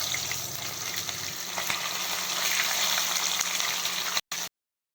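Fish sizzles and bubbles in hot oil in a kadai, a dense, steady frying hiss up close that cuts out abruptly near the end, with no talking.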